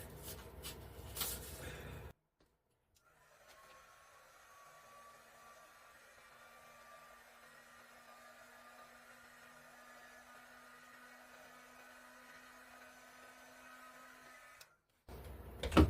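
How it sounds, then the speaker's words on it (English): A heat gun blows steadily over poured acrylic paint on a canvas in a Dutch pour with autumn colours. The airflow is a continuous, even whooshing hiss that runs unbroken for about twelve seconds, then cuts off abruptly. "I'm going to hit this quick with a heat gun."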